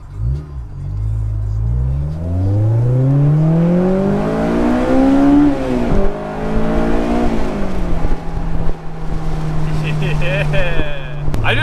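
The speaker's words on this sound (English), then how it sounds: "the exhaust note is very deep" A Honda S2000 fitted with a GReddy Revolution RS exhaust revs hard, its deep engine note climbing in pitch, dropping back and then settling into a steady idle. The sound is loud and close, ending with a brief higher whine.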